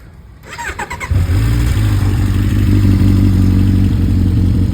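A Suzuki GSX1100F Katana 1100cc carbureted motorcycle engine cranks with a rapid clatter, then catches and settles into a loud, steady, smooth idle rumble close by.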